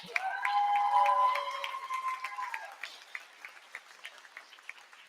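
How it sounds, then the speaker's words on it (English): Faculty applause at a university convocation, with clapping rising under a trailing voice and then thinning into scattered individual claps that fade out. "The faculty can applaud that."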